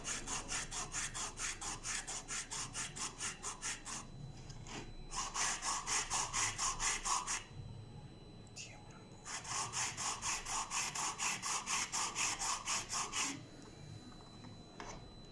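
Sandpaper rubbed back and forth over a Hot Wheels F-150 toy truck body, close rhythmic rasping strokes in three quick runs separated by short pauses.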